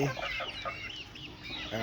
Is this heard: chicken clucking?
yes